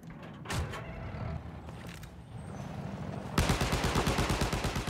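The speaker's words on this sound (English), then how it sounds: "It's an air-bursting grenade launcher." Air-bursting grenade launcher firing in the Battlefield 4 beta, a sharp blast followed by a dense run of rapid, loud bursts and impacts amid steady battlefield noise.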